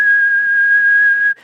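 A person whistles one steady, pure high tone to mimic audio feedback ringing through a Behringer WING mixer. The whistle is loud and unwavering for over a second, then stops abruptly.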